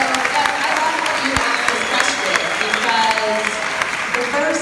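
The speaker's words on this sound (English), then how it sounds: "please give Doug a round of applause" A crowd at a Traverse City public event applauds a 12-year-old boy, loud and close, with sustained dense clapping over several seconds and a few voices and shouts rising through it.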